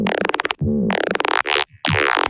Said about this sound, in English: And then when I combine them together using the vocoder,